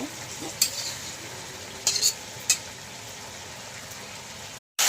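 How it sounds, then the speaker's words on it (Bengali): Jackfruit and prawns sauté in a pan with turmeric and a little water, a steady sizzle with a few sharp clinks of a spoon against the pan before a brief cut at the end. "এবার হলুদ গুঁড়ি, সামান্য একটু জল দিয়ে দিল একটু কষা কষা করার জন্য।"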